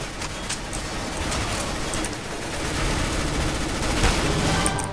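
A P90 submachine gun fires in CS:GO, a rapid, continuous stream of crackling shots that swells louder toward the end, with a dense rattling texture and no talk.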